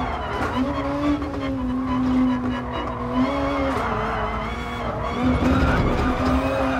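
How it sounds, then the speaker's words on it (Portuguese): A car in Gran Turismo Sport brakes hard into turn 1 at Interlagos, its tires squealing in a sustained wavering screech over a loud engine drone, with no talking. "Travagem forte para a curva 1 aqui nos cones."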